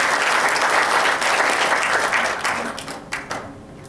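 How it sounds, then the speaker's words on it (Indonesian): An audience at an inspirational talk gives a loud, dense round of applause that holds steady, then tapers into a few scattered claps. "Kasih tepuk tangan sekali lagi yang luar biasa ya."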